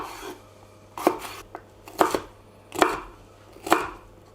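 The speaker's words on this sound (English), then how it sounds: "And lastly, our paprika. Let's give that a bit of a chopping as well." Paprika chopped with a knife on a cutting board, four firm, evenly spaced thuds about a second apart plus one lighter tap, close and clear with no talking.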